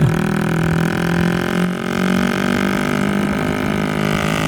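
A car engine in the Roblox TT Racing game drones steadily at speed, a continuous loud revving hum with only a slight dip midway, with no pauses or talking over it.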